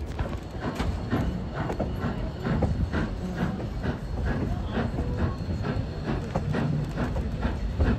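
Durango and Silverton Railroad train with original cars and locomotives running along the line, a steady rattling, clattering rumble with rhythmic clicks and knocks that carries on throughout at moderate, fairly close range.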